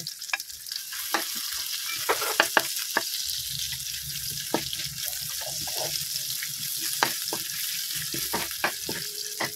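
Pork belly frying with ginger in a hot pan, a steady close sizzle with scattered crackles and pops and occasional stirring scrapes throughout, no voices.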